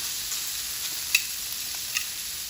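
Shrimp frying in a pan, turned over and browning golden, give a steady close hiss of sizzling with a couple of brief sharp pops and spatters, no talking.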